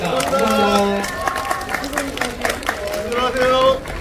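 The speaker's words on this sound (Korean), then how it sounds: "박수로 저희 인사하고 마무리하겠습니다" Audience applause in a cinema at the close of a stage greeting for the film Handsome Guys, crowd clapping and cheering heard through a voice speaking over a microphone, with the crowd growing louder near the end.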